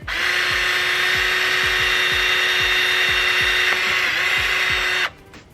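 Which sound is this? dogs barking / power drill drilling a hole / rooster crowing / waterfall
power drill drilling a hole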